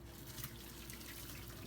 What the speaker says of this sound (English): So now I'll drain these into the sink.